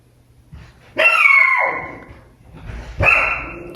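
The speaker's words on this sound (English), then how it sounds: "My damn dogs." Dogs bark close and loud in two drawn-out, whining bursts with a short gap between them.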